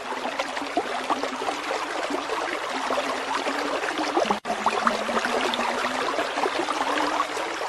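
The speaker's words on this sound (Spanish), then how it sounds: "escuché el rumor de un arroyo" A stream in a cavern keeps up a steady murmur of trickling, babbling water. The wash is even and fairly close, with no voices.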